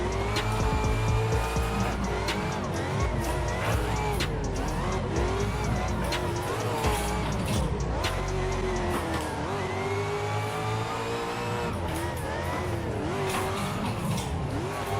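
An underpowered car in a drifting simulator game revs and slides continuously, engine pitch rising and falling through gear changes with repeated tire squeals and skids, loud throughout.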